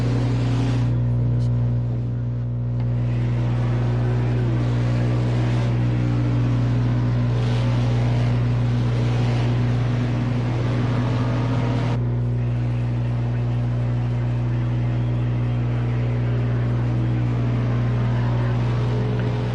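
Race car engines during a CSKL Red Bull race, a steady loud droning hum with strong low tones and shifting whines as revs rise and fall, continuous throughout with a faint voice underneath.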